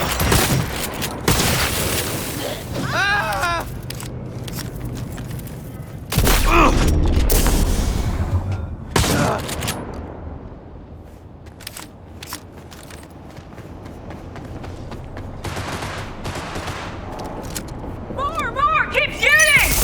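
Gunfire in the Cyberpunk 2077 video game: loud bursts of shots and booming impacts over about twenty seconds, with shouting voices and game sounds layered throughout.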